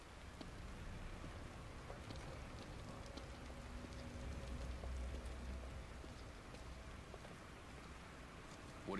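Steady rainfall in the horror game The Evil Within, a soft, continuous hiss of drops on surfaces with faint low rumble beneath, quiet and unbroken throughout.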